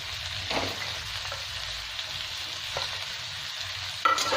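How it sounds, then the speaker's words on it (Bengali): Capsicum and onions frying in a pan for chilli paneer, a steady close sizzle with a few light stirring scrapes and a sharper burst near the end, no talking. "পেঁয়াজগুলো দিয়ে দু মিনিট ভেজে নেবো এবার আমি ক্যাপসিকামটা দিয়ে দিলাম"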